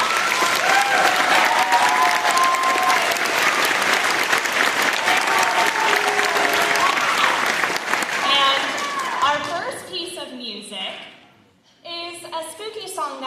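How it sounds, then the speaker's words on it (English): A school concert audience gives the 7th grade orchestra a long round of loud, dense clapping that fills most of the clip, with voices audible beneath it, before the applause fades and a voice begins speaking near the end. "Can we get one more round of applause for our"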